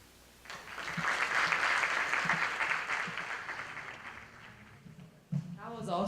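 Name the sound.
applause after a talk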